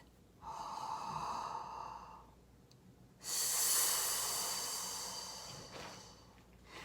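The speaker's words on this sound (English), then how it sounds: "that again is the yawn breath, also known as the Darth Vader breath" Slow, loud breaths: a long hissing inhale, a pause, then a long rushing exhale through the throat, close to the microphone, no talking.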